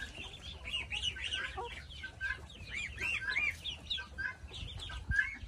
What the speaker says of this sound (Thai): เสียงไก่ต๊อกค่ะทุกคนที่ได้ยินอยู่นี้คือเสียงไก่ต๊อกค่ะ